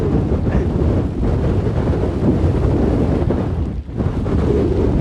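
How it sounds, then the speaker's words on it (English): Loud, constant 50 mph wind roaring and buffeting close by during a storm at a wild campsite, with rain driving hard throughout and a brief dip in the gusting near the end. "Windy, driving rain."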